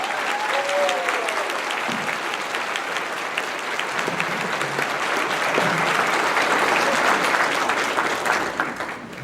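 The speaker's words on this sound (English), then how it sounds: "Round of applause for all our Person County, North Carolina scholars." Audience applause for Person County, North Carolina scholars at an academic recognition banquet, a dense, steady wash of many hands clapping that stays loud and continuous throughout.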